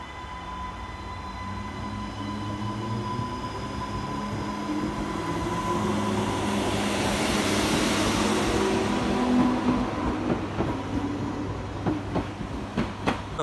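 A brand new Transport for Wales Class 230 train runs along the line at Bidston with a rising rumble and wheel noise that swells to a steady roar, then ends in a few sharp clicks over the rail joints.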